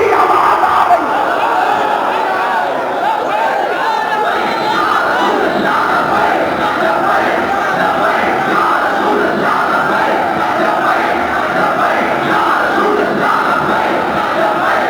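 A large crowd chants Labbaik in loud unison, a dense, continuous roar of many voices that holds steady from start to finish without pause.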